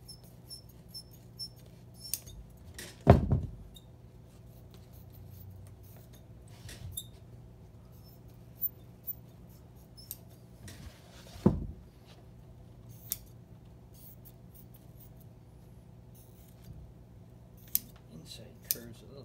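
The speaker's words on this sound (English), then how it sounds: "just round off that edge a little bit with the scissors" Scissors trimming the foam edge of a tractor-style motorcycle seat during reupholstery, a few sharp snips and small handling clicks in a quiet room.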